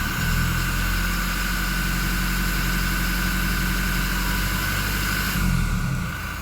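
A Toyota Innova engine fitted with a Datatec racing air filter is revved to about 1500 rpm, a steady loud mechanical drone with a low rumble and a whine that eases off near the end.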